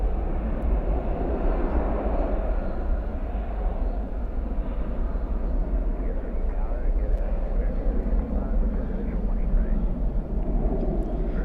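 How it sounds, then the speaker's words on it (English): Alaska Airlines Boeing 737 taxiing at night toward runway 18L at Dallas/Fort Worth airport, a steady low jet engine rumble that holds evenly throughout, with faint talk in the background. "we got an Alaskan aircraft. 737 something. Taxiing to 18 left for departure here."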